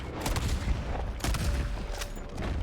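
Gunfire from the video game Red Dead Redemption 2 rings out in several sharp bursts, like a fusillade, spread across a few seconds over a constant background of game noise.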